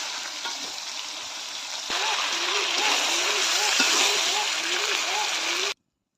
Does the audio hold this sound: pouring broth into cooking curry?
yes